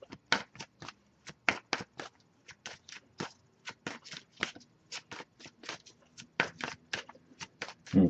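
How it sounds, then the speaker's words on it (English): A deck of tarot cards is shuffled by hand close up, with a steady run of quick, crisp riffling slaps and flicks, fairly quiet and with no talking. "I'll give it a few more shuffles."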